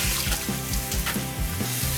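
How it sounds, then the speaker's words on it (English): Scallions rinsed under a running kitchen tap, a close, steady splash of water with a patterned, bubbling texture as the stream hits the greens. "I'm just going to give these scallions a quick rinse"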